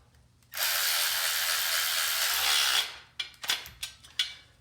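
Hand drill running loud and steady for a couple of seconds while tightening into square steel tubing, then cutting off abruptly, followed by several short, sharp clicks and knocks.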